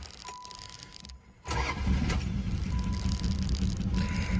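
A 1985 Chrysler Fifth Avenue engine cranks and catches after a quiet start, then settles into a rough, uneven idle with a bad misfire, rumbling loudly and steadily to the end.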